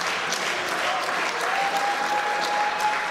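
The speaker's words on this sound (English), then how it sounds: "Crowd showing their appreciation for one hell of a wrestling match" A crowd at an indoor wrestling event applauds after a match with dense, loud, continuous clapping and a few scattered cheers, steady throughout.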